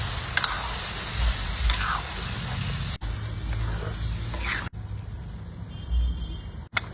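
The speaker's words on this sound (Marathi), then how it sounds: "ग्रेव्हीसाठी भाजीसाठी आपण पाणी घालूया," Hot water poured into a pan of paneer masala gravy with lightly fried paneer sets off a loud, continuous sizzle and hiss, with a few sharp clicks and knocks from the pan.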